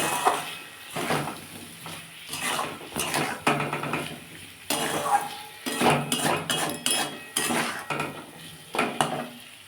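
Cauliflower and potato curry with salt and turmeric being sautéed for a Bengali paneer dish, with repeated clinks and scrapes of a utensil against the pan in uneven bursts, close and fairly loud throughout.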